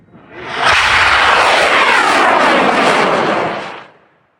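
A model rocket launches outdoors in a blizzard with a sudden loud roaring whoosh that holds steady for about three seconds, then quickly fades as it climbs away.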